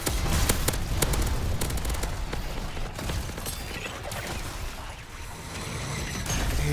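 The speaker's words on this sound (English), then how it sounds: "Look at the reload on this thing." Weapon reload in the MW3 Zombies video game, a dense run of mechanical clicks and metallic rattles close up over loud, busy game noise with scattered sharp bursts.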